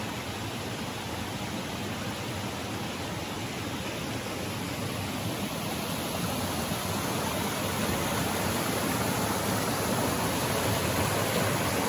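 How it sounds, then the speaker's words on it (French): A small stream flows and joins another out in the wilderness, a continuous full rushing wash of water, close and steady, with no voices. "il y a un autre petit ruisseau qui arrive juste ici"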